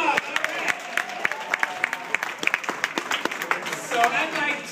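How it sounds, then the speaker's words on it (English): A meeting audience claps for a community speaker, producing a scattered, uneven patter of individual hand claps that swells slightly toward the end, with some voices mixed in. "Let's give her a big round of applause"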